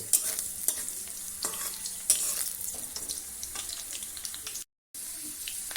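Chopped ginger frying in hot oil in a kadai, stirred with a spatula: a steady close sizzle with scraping strokes around 0.1, 0.7, 1.5 and 2.1 seconds, a brief dropout near 4.7 seconds, no voices.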